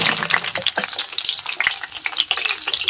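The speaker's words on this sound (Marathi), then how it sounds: "आता आपण ह्या तेलामध्ये तळून घेऊ मस्त" Green chillies fry in very hot oil for a rural Jalgaon varan batti meal, giving a dense, steady sizzle with crackling pops and occasional stirring clinks close by, no voices over it.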